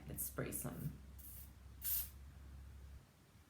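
Short hissing bursts of makeup setting spray misted onto the face, several quick puffs close to the mic with a louder burst near the end, over a low steady hum.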